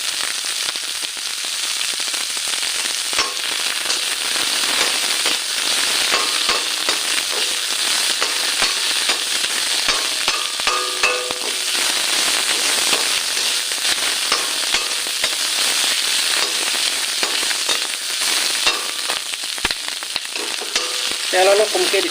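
Ginger garlic paste fries in a small amount of oil with bay leaves, the base for an Assamese-style chicken curry. A steady, loud, crackling sizzle runs throughout, with no talking.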